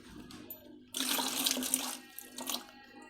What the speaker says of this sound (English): I'm squeezing this inside the water, and the fresh water gets in and cleans the sponge.